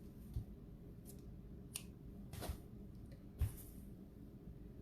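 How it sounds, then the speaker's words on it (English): Scissors snipping a piece of yarn at a kids' craft table: a few sharp, quiet clicks spaced apart over a soft background hiss. "I'm going to cut another piece of yarn"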